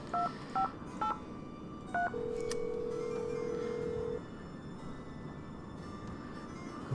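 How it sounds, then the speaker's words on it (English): A phone number is dialed in the Nancy Drew game Treasure in the Royal Tower: four clear keypad tones, then a long steady tone of about two seconds, over a low ambient hum. "I want to ring that phone number."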